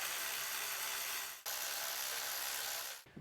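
Steady mechanical whirring and ratcheting while intake manifold bolts are tightened on a Honda Pilot, continuous and close with a brief break partway through.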